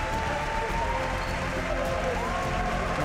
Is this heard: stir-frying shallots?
no